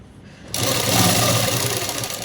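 Sewing machine stitching a shirt: quiet at first, then it starts abruptly and runs in a loud, close, continuous whir of rapid stitches, with no voice over it.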